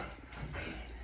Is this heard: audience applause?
no